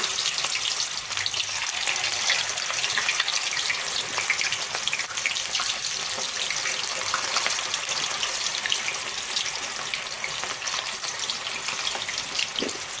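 Raw plantain slices fry in hot oil with a loud, steady, dense sizzle and crackle that runs without a break.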